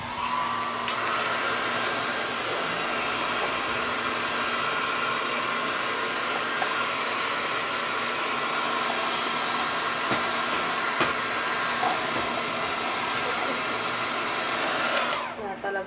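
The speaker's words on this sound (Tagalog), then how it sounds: "tong blower na gamit ko is from Panasonic" A small but powerful Panasonic hair blower dryer runs continuously at a loud, steady whoosh for the whole stretch, then cuts off at the very end.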